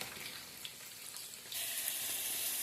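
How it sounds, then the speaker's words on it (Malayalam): Chopped onion, capsicum, ginger, garlic and green chilli hit hot oil for a Kannur-style chicken chilli, giving a steady frying hiss that jumps to a louder, brighter sizzle about halfway through. "എണ്ണ ചൂടായിട്ടുണ്ട് നമ്മൾ അതിലേക്ക് ഇപ്പോൾ ഈ മുറിച്ച് വെച്ച ഉള്ളി ക്യാപ്സിക്കോ ഇഞ്ചി വെളുത്തുള്ളി പച്ചപ്പറങ്ങി അതിലേക്ക് ആഡ് ചെയ്യാണ്"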